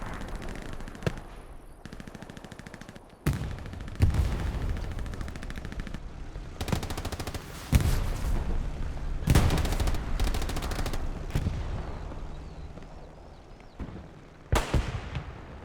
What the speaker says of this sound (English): YOKO rockets hitting everything but its intended target